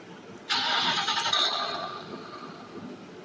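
A Mustang car engine start plays from a Boult smartwatch speaker: a sudden crank and catch, then a sustained revving roar that slowly fades, thin and tinny through the small speaker.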